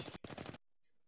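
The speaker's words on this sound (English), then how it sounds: "Shotgun." Gunfire in an online shooter game, a rapid burst of loud blasts with a brief gap, then the shots cut off into near silence.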